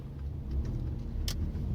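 A car engine hums low and steady from inside the cabin while driving, with a brief tick partway through.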